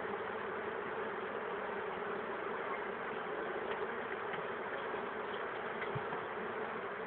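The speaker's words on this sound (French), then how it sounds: "Il y a plein d'abeilles derrière" Honeybees swarming densely around an open hive, a continuous close, steady buzzing drone with no talk over it.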